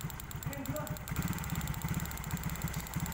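A small Yamaha Mio scooter engine putters nearby at idle, its beat slightly irregular and lumpy with abnormal idling, steady in volume throughout.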